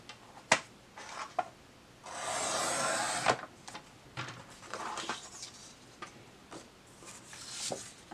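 Paper being trimmed for a personal-size planner pocket folder: a sustained rasping slide of about a second, like a cutter drawn along a sheet, among light taps, rubs and handling noises, quiet and close with no talk.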